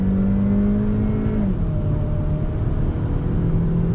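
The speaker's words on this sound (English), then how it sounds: "I want to give you another acceleration test." A 2020 Kia Optima SX with a 6-speed automatic accelerates from about 25 mph, its engine drone holding a steady pitch that drops as it shifts, heard from inside the cabin without talk.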